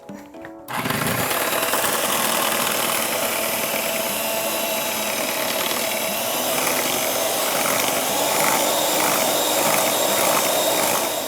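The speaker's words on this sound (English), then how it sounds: "Okay, so butter and sugar. Okay, so I'm gonna mix it." An electric hand mixer creams butter and sugar for a chocolate biscuit pistachio dessert, a loud continuous whir with grinding texture that starts abruptly after a short pause and holds steady to the end.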